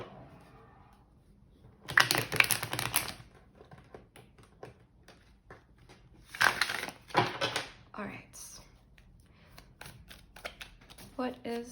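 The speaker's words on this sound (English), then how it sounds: "I'm just gonna give this another shuffle" A deck of tarot cards shuffled in two quick riffling bursts a few seconds apart, followed by softer card taps and handling clicks, close and fairly quiet with long gaps between the bursts.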